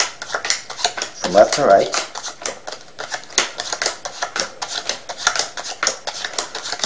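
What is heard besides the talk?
dealing playing cards into piles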